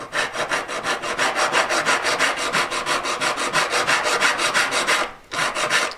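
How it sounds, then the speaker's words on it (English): A big coarse file rasps across the sides of a metal ring shank in quick, even back-and-forth strokes, loud and close, with one brief pause before the filing resumes. "I get a big coarse file. Hold it, just filing only the sides of the shank"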